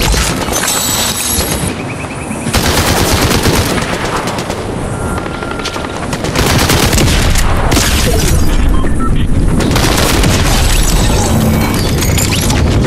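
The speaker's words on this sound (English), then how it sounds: "Finally, I killed someone with shotgun." A shotgun blast in the Fortnite video game sits within a loud, dense wall of booming gunfire and crashing impacts that stays near-constant and heavily saturated from start to finish.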